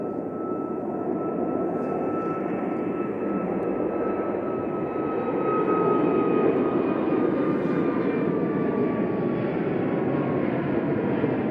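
Ryanair jet airliner bound for Limoges at Manchester Airport, a loud, steady engine roar holding for the whole stretch and swelling slightly midway as it passes.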